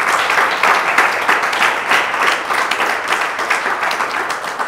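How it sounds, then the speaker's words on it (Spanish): A church congregation applauds as an offering of praise to the Lord, sustained dense clapping close and loud for the whole stretch. "Démosle una ofrenda de aplauso al Señor."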